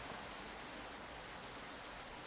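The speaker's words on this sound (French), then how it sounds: "L'effet de pluie est franchement bien fait." Steady, faint rain in the video game Paths & Danger, a soft even hiss of falling water with no pauses and no other sounds.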